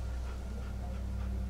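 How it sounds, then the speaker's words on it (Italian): A dog in The Walking Dead video game pants softly and whimpers up close, with quick breathy puffs over a low, steady background hum. "Ma è un cane!"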